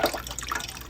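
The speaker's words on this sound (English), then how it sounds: "Got to keep the water running so the pipes don't freeze." A household tap left running in cold weather so the pipes don't freeze makes a close, steady splashing trickle of water, heard alone.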